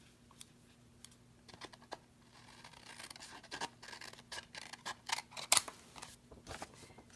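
Craft snips trim birthday paper on an envelope, making a series of small crisp snips and paper rustles that grow busier toward the end. The sound is close and fairly quiet.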